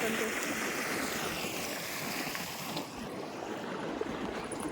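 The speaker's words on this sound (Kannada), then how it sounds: "ನೀರು ನೋಡ್ರಿ ಹೆಂಗೆ ಬರ್ತಾವೆ" Water rushes and flows steadily, a loud, continuous broadband wash that never pauses.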